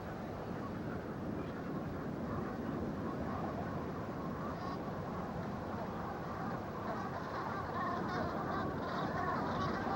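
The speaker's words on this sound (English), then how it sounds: "Overhead, long skeins of brant geese head for the tundra further north." Brant geese honk repeatedly from a distance overhead near Juneau, Alaska, over a steady, dense wash of background noise, the calls faint and scattered.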